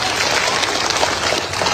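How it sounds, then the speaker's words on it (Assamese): Sustained crowd applause at an outdoor political rally in Dhubri, Assam, a dense, steady wash of clapping from many hands throughout with no pauses. "আৰু এটা হাত তালি বজাবলৈ অনুৰোধ কৰিলে মই সকলোকে।"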